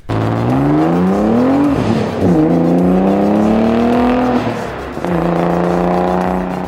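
A Nissan 300ZX engine with a Z1 3-inch axle-back exhaust revs loudly and steadily, pitch climbing and falling through several long pulls with a brief dip between them, close and continuous.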